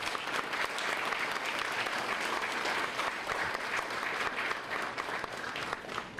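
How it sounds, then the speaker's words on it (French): Sustained applause from a large audience at the installation ceremony of Jules Cantave as head of Haiti's Court of Cassation, a dense, steady clatter of many hands filling the room at an even level throughout. "Ça mérite des applaudissements si je le dis."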